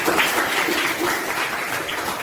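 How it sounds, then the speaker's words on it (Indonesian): Children clapping together in a classroom, a steady dense patter of small hands lasting about two seconds at close range, with no talk over it. "Tepuk tangan dulu ya buat Risma."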